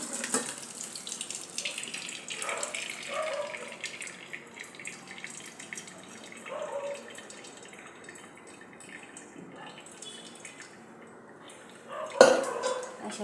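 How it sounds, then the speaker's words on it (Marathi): Water drains from cooked lentils for puran poli in a kitchen, with soft trickling, gurgling pours and drips coming in short bursts before a sharper splash near the end. "अशा प्रकारे आपल्याला डाळ निथळून घ्यायची आहे"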